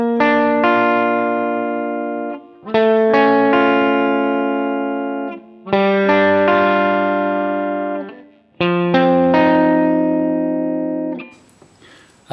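Electric guitar with chorus-like effects strumming chord shapes on the fourth, third and second strings, four ringing chords each left to sustain and decay, alone with no talk.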